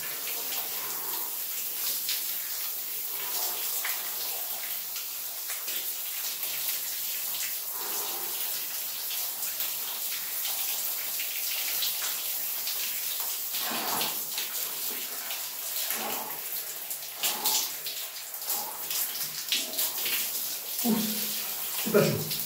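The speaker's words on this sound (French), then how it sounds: "maintenant c'est parti pour la douche froide" Cold shower water running steadily, a continuous broadband hiss of spray with occasional splashy bursts near the end as the body moves under it.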